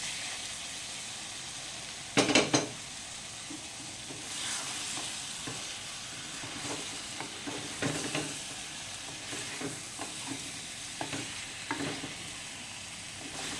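Chicken gravy simmers in a pan with a soft, continuous sizzle. A spoon stirs and scrapes through it in repeated close strokes, and one louder clatter comes early on.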